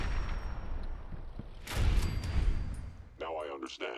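Gunfire in Fallout 4, several loud close shots in a dense volley with a heavy boom in the middle, followed by someone talking.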